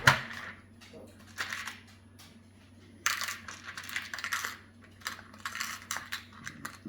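Fishing hooks rattle and clatter inside a plastic tackle box in several bursts of small metallic clicks, close and moderately loud, with a low steady hum underneath.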